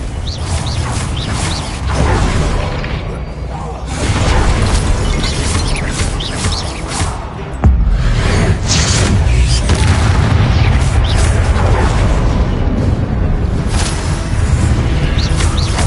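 Confringo blasting-spell explosions during combat in Hogwarts Legacy, a steady run of loud, dense booms and crackling impacts layered over mechanical clatter, swelling at a few points and never pausing across the whole stretch.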